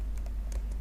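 A few light keystrokes on a computer keyboard while writing an SQL query, faint, sparse taps spaced irregularly over a quiet background hum.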